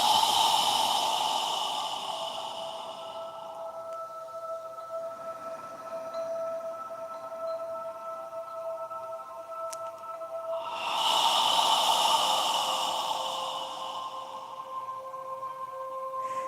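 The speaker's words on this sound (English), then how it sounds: "slowly exhaling" A slow, breathy yoga exhale through a constricted throat comes as two long, soft whooshes separated by quiet, with gentle sustained musical tones underneath.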